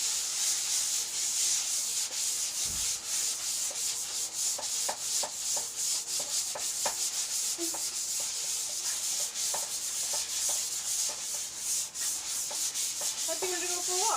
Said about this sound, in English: Just gently, gently. You don't have to sand it hard.